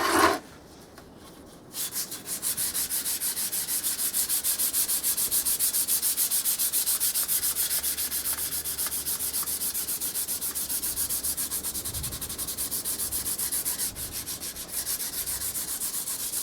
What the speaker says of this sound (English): The Zinsser 123 is dried off, so I'm just going to give it a light sand